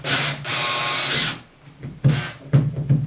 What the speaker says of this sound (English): I'm just going to do a little test pilot hole just on the corner by there